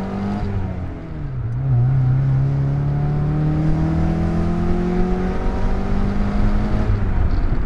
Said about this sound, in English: you have to do it right if you want to actually dump the clutch in this car